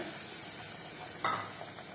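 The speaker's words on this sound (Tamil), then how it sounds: "கடுகு உளுத்தம்பருப்பு மட்டும் போட்டு தாளிச்சிருக்கேன்" Mustard seeds and urad dal sizzle softly in hot oil in a pan for tempering, a faint steady hiss with one brief louder crackle midway, and no voices.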